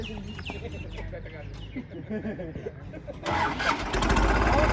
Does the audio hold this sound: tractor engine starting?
yes